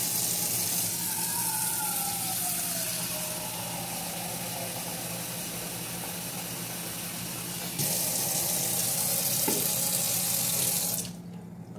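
Tap water runs steadily into a small cooking pan in a kitchen, a continuous close hissing splash that grows louder briefly before cutting off near the end.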